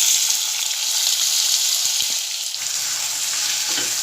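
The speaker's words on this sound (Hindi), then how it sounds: "तेल गरम हो चुका है, अब मैं इसमें प्याज डालूँगी।" Onions hit hot oil in a frying pan on a gas stove, giving a loud, steady, hissing sizzle close to the mic with a few light stirring clicks and no talking.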